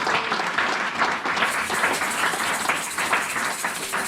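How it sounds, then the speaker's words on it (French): A church congregation bursts into sustained, dense applause and clapping that stays loud and steady throughout, with a few faint voices mixed into the crowd noise. "Est-ce qu'on peut acclamer le Seigneur?"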